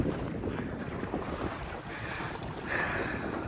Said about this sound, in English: We're sailing into the wind.